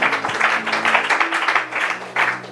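A church congregation applauds during a French-language Bible teaching, a dense, steady patter of clapping at moderate loudness over a faint low hum.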